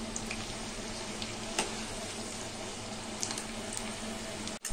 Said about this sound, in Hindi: आलू पनीर के भुजिया को हमने डीप फ्राई कर लिया है